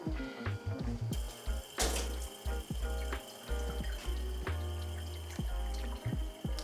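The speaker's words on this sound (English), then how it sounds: "I'm gonna go ahead and pour out my pre-wet water." Pre-wetting water for a pour-over coffee is poured out, a steady close stream splashing and gurgling into a vessel, with clinks and drips punctuating the flow.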